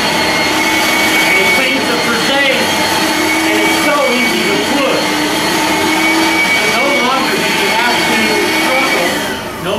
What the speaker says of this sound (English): Fuller Brush Speedy Maid vacuum will come with this Frisee adapter